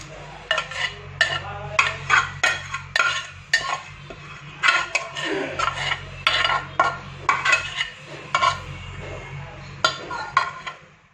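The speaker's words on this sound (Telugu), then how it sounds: "తర్వాత దీంట్లో ఫ్రైడ్ ఆనియన్స్ వేస్తున్నాను. విత్ వేయించిన ఆయిల్తో పాటు వేసేస్తున్నాను." Fried onions with their frying oil added into a chicken biryani pot: repeated close scraping and clinking of a spoon against the pot in uneven bursts over a low steady hum, no talking.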